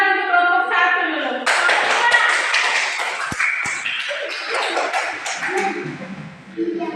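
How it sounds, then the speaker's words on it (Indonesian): Classroom applause for a student group at an elementary school, a burst of clapping that starts abruptly and carries on steadily under children's voices and chatter. "Oke, tepuk tangan untuk kelompok 1 dulu."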